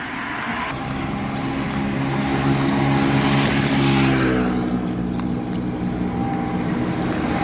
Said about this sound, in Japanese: 車多いですね。